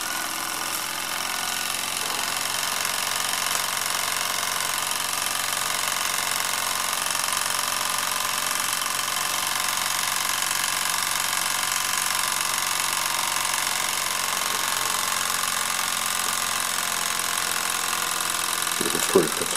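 A Joseph Falk model engine runs with one wick removed to slow it, giving a steady, continuous mechanical hum and light rhythmic knocking at moderate distance, with no talk over it.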